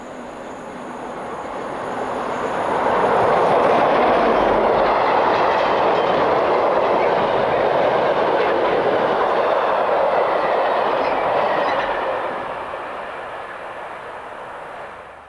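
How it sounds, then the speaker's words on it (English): A DB Class 110 electric locomotive, number 427, hauls a freight train north through Krienzen at night in July 1994. A loud rumble and rail clatter swell in over a few seconds, hold steady, then begin to ease away. "A Class 110 on freight, as number 427 heads north through Krienzen on the night of the 27th of July 1994."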